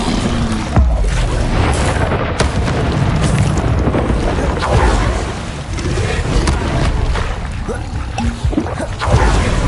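Continuous rumbling blasts and crackling bursts from Bombarda spell explosions in Hogwarts Legacy, loud and dense throughout with sharp impacts scattered over a roaring, wind-like background.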